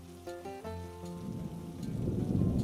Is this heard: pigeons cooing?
no